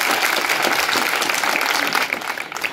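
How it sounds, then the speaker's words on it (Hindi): A school audience at an education programme breaks into loud, sustained clapping to welcome guests, a thick continuous wash of hands close by and steady throughout. "आप जोरदार तालियां से जो स्वागत कीजिए"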